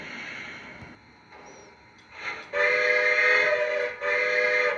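Two loud steam locomotive whistle toots, the second longer and sustained, sounding close by over a low rumbling background.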